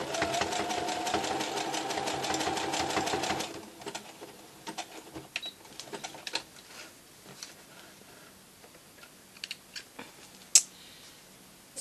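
Sewing machine stitching a tea towel back and forth, a fast close mechanical rattle for about three seconds, then it stops and scattered small clicks and handling taps follow.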